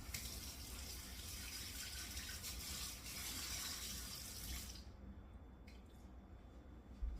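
Tap water runs steadily into a sink while a jar used for sourdough starter is rinsed, a loud continuous gush that stops abruptly near the end, followed by a few faint clinks.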